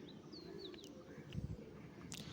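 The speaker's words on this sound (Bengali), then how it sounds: "তো পায়রা দুটো খুবই ভালো পায়রা আছে" A pair of pigeons, a male and a female, coo softly and close by, giving a low throaty burst in the middle, with a few faint chirps from other birds in a quiet setting.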